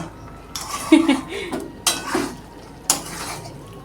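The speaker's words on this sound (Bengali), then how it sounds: "সমস্ত বড়িগুলো দেওয়া হয়ে গেছে ভালো করে মিক্সড করে নেব" A utensil stirs and scrapes bori lentil dumplings through vegetables in a metal pan, with a few distinct clanks and scraping strokes over a quiet background.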